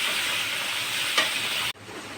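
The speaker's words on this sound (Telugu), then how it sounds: "బీరకాయ ముక్కలు కూడా వేస్తున్నాను రెండు వేగుతాయి" Pieces of ridge gourd fry in a pan for a peanut chutney, producing a dense, even close-up sizzle with one brief clink, and the sound drops off abruptly just before the end, with no talking.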